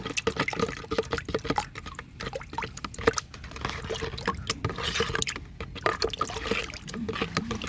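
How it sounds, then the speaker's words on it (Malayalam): Fermented rice water mixture, prepared with egg as a vegetable fertilizer, poured and sloshing in a steady liquid splashing and trickling stream, close and fairly loud throughout. "ഈ മിക്സ് അങ്ങോട്ട് ഒഴിച്ചു കൊടുക്കാൻ പോവാണ്"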